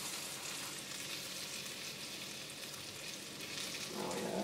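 Morel mushrooms frying in bacon grease, a steady close sizzle and crackle with a louder burst of spattering near the end, no talk.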